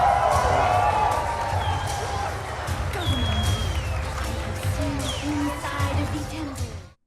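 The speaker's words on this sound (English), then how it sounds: "that was the crowd's reaction" A large crowd cheers and applauds at a live Warframe reveal event, a loud sustained roar of voices and clapping that stays steady throughout before cutting off abruptly at the end.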